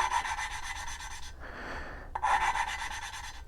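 Rhythmic rasping grind of a valve being lapped with abrasive compound on a 1983 Suzuki GS1100E inline-four motorcycle engine, back-and-forth strokes, a brief pause, then the scraping resumes, close and steady.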